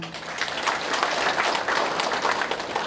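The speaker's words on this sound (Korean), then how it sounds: "군수님께 큰 박수 부탁드립니다" Applause from an audience at a county residents' town-hall meeting, a steady patter of many hands clapping at moderate volume that holds for a few seconds without any talking.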